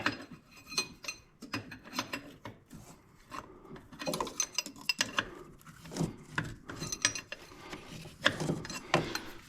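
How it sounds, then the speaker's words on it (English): A wrench works a bolt while an AirDog 150 fuel pump goes into a 2nd Gen Cummins truck, giving close, repeated ratcheting scrapes and metallic rubs in uneven bursts. "I know I need a 3/4 inch wrench."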